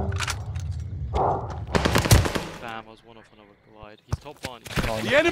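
Automatic gunfire in a multiplayer shooter video game during a hard point battle, with bursts of rapid shots alternating with voice chat as players talk over and between the firing.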